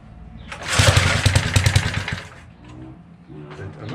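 Briggs and Stratton 3 HP engine on a vintage mini bike sputtering into life, close rapid put-put firing for a couple of seconds before fading to a rough idle, with a voice briefly talking near the end.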